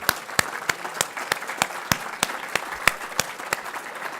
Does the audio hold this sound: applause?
yes